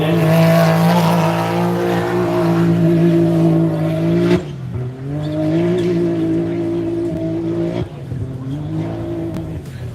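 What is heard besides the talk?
off-road race car driving its final lap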